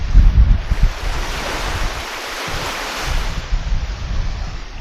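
Strong wind roars and buffets the microphone in heavy gusts, strong enough to blow a drone away, mixed with a broad rushing noise like surf, no voices.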